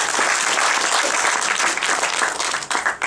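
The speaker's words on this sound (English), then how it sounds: "Let's give them a big applause for that." An audience applauds at a cultural dialogue event at Kala Academy in Goa, a dense, loud burst of clapping from a full room that holds steady and then thins toward the end.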